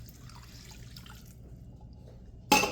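Vegetable broth is poured into a pan of orzo, a sudden, close wet splash and rush of liquid that starts abruptly near the end after a quiet stretch.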